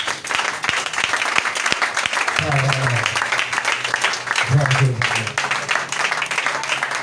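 A church congregation applauds at a live French-language teaching service, dense sustained clapping filling the whole stretch with voices and low musical tones underneath.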